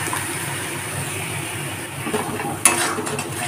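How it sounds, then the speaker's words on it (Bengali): Ginger, garlic and tomato paste hits onions frying in a pan for a fish curry with sesame and cashew, giving a steady broad sizzle and a sharp clatter near the end, close and without speech. "এখন আদা রসুন টমেটোর পেস্টটাকে দিয়ে দেব।"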